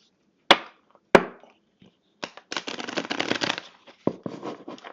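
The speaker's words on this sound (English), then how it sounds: "Let's shuffle these cards." Tarot cards are shuffled in a quiet room: two sharp snaps of the deck, then a dense riffling flutter of cards lasting a second or so, followed by a few more riffles and taps, close and alone without talk.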